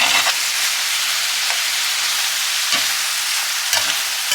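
Shrimp frying in a hot pan, a steady bright sizzle and hiss with occasional soft stirring clatters, close up and without talk.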